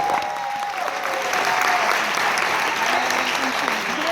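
Loud, continuous audience applause at a motivational seminar fills the clip, a thick roar of clapping with a few faint voices mixed in.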